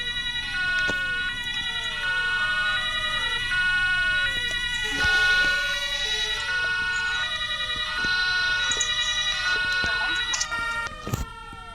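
Several overlapping sirens wail continuously in the video game Emergency Hamburg, with rising and falling tones, loud and close, with faint background sounds beneath.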